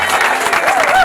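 A crowd applauds the host's wife at a Congolese wedding, loud dense clapping throughout a short burst, with voices calling out in the mix.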